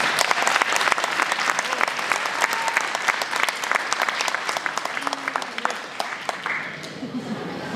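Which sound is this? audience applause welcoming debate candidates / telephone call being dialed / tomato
audience applause welcoming debate candidates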